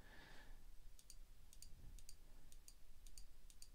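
Faint, quick double clicks of a computer mouse repeat at a steady pace, about every half second, against a quiet background with no talking.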